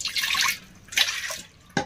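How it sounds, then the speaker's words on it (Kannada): Water poured into a cooking pot with tea powder in a home kitchen, heard as two short, splashy pours followed by a brief drip, close and fairly soft. "ಇದ್ರೊಳಗೆ ಸ್ವಲ್ಪ ನೀರು ಹಾಕೋಣ"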